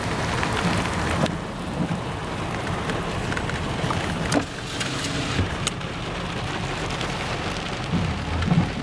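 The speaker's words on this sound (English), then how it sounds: "Now it's raining." Heavy rain pours steadily in a dense hiss, with occasional louder drops and splashes and a low rumble underneath.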